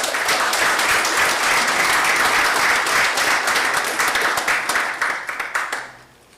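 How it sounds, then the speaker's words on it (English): Loud audience applause for award recipients at a school district board meeting, heard as sustained, dense crowd clapping that thins out and fades away near the end. "round of applause for our Red Apple recipients"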